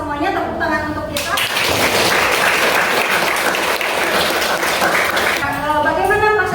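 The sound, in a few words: applause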